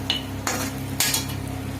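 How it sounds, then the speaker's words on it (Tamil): A spoon stirs mutton pepper fry with grated coconut in a pan, making three short scraping strokes over a low, steady background hum. "திரும்பவும் ஒரு டைம் ஒரு ஜஸ்ட் அப்படியே ஒரு கிளறு கிளறிட்டு எடுத்துட்டா மட்டன் பெப்பர் ஃப்ரை வந்து ரெடி ஆயிரும்"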